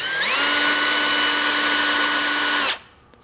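A drill press spins up quickly, cleaning a motor armature from a car power door lock actuator, whines at a steady high pitch for a few seconds nearby, then stops abruptly into near silence.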